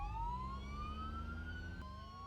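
Police car sirens wail in the BeamNG.drive driving game, a loud continuous rising electronic tone with a sudden pitch change near the end, over a low engine hum.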